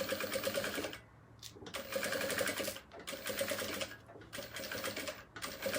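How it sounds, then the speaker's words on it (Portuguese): A sewing machine runs in bursts of rapid stitching, sewing piping all the way around an organizer case with elastic bands, with brief pauses between runs, close and fairly loud. "vou costurar ele em toda a volta"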